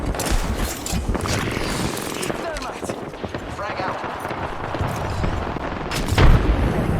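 Continuous booming blasts and gunfire-like bursts from the video game Apex Legends fill the scene, dense and loud, with a heavier explosion near the end under occasional voices.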